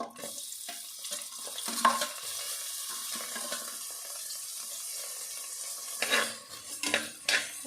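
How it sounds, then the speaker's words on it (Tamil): Chopped onion sizzles softly in a pan while a utensil stirs and scrapes against it, with occasional clinks of metal; no voices. "நல்லா வதக்கி விடலாம்."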